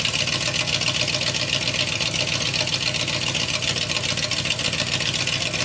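A salvaged 1965 Chevrolet Nova SS garage find idles steadily just after start-up, its close, even engine rumble continuous throughout with no talking.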